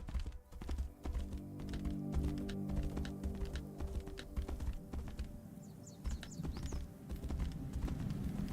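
Horse hooves clop steadily while riding through the world of the video game Tainted Grail: The Fall of Avalon, a continuous rhythmic patter over low rumbling ambience, with a brief bird call partway through and no talking.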